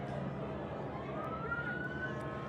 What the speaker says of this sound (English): We can hear some of those police sirens going off now at this moment as well.